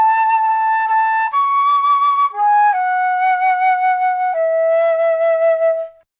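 A black and gold Fesley flute plays a slow melody of sustained, clear tones. The notes are separated by small steps and the playing is close and steady, with no talking, before it ends in silence.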